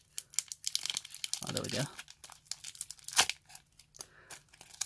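Pokemon Team Up booster pack foil torn open with a crinkly rip, short bursts of tearing and crumpling close up, with a person talking over it.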